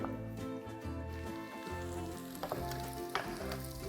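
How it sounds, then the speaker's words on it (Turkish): Dried apricot halves being sautéed in a pan give a continuous close sizzle with occasional stirring clicks and scrapes. "Kuru kayısılarla da biraz kavuracağım."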